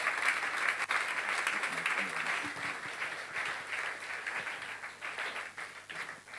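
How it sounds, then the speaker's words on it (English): Warm, sustained applause from a church audience welcoming Pastor Chukwudi Abana, dense clapping filling the room throughout with faint voices beneath it. "Keep clapping."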